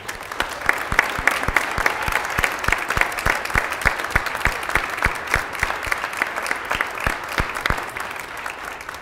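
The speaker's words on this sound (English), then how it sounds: "if you could all just give a brief round of applause for Ms." A church congregation applauds during a Sunday service, a sustained patter of many hands with a few sharp, prominent nearby claps in steady rhythm, continuing at even loudness for about nine seconds.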